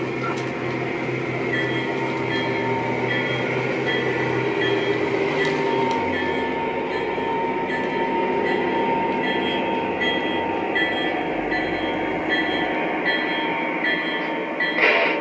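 Lionel Legacy ES44AC model train locomotive running: a steady mechanical motor hum and electronic diesel rumble with faint ticking wheel clatter, continuous and close, shifting slightly in pitch midway, no talk.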